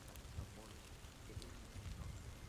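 Steady, faint rain falls in a Hogwarts video game, a soft, even hiss with low rumbling underneath that continues without a break.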